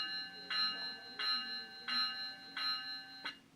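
A bell rings on an Atlas ALP45-DP model locomotive, striking four times at an even pace, with a bright metallic ring that holds between strikes. It is close and clear, with no voices.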